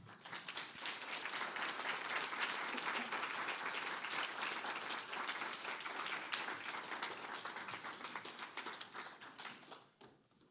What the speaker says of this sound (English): Can we have another big round of applause for Jess Dugan?